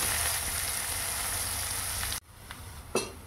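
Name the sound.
bitter gourd (karela) frying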